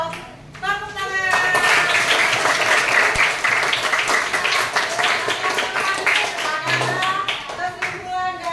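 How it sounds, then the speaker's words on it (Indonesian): Classroom applause from children, a dense run of many clapping hands that carries steadily for several seconds, loud and close, with kids' voices mixed in and rising over the clapping near the end. "Oh, tepuk tangan."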